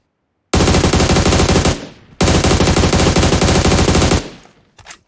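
Two long, loud bursts of automatic rifle fire in PUBG Mobile, each rattling continuously for over a second, separated by a brief gap and trailing off into quiet.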